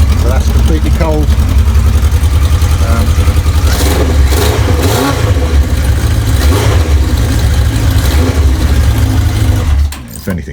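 Yamaha XJ900S motorcycle with a naked conversion, its engine running steadily close by with a dense, continuous throb and a few rises in revs. Someone talks briefly over it before the sound cuts off near the end.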